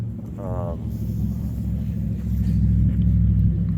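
A car drives past on a busy high desert road beside a cattle paddock, a steady rumbling swell that grows louder toward the end, with a brief animal call early on.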